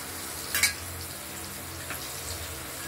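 Whole spices tempering in hot oil, a steady moderate sizzle with a brief louder crackle early on and faint stirring touches, no talk.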